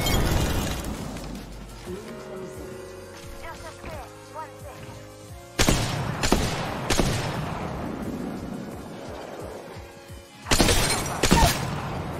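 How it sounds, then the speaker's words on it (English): Single shots from a Havoc rifle fired on single-fire mode in a video game, landing as two or three sharp broadband cracks spaced several seconds apart over a busy background of game sound and voices. "They're shooting a Havoc single fire, so I'm not too worried."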